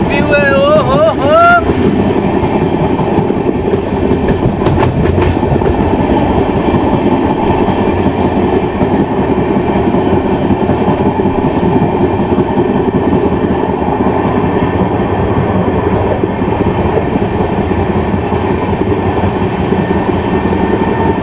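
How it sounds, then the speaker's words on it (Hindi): A passenger train on the Jagdalpur to Visakhapatnam line runs through Araku Valley, giving a loud, continuous rumbling roar with rail clatter and wind buffeting and a brief horn-like wail near the start. "तो अपनी जो ट्रेन है ना वो पहुंच चुकी है पदुआ रेलवे स्टेशन पे।"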